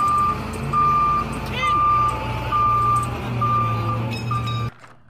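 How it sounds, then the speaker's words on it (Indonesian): Reversing beeps from a concrete mixer truck, a loud close series of evenly spaced electronic tones over a rumbling diesel engine, ending abruptly. "Wah, kita menemukan truk molen teman-teman."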